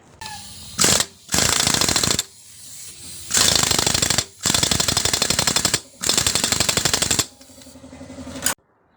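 A tool rattles in loud, rapid bursts while tightening the oil pump nut on a Racal 125 motorcycle during crankcase work. About five separate bursts of a second or more are split by brief pauses.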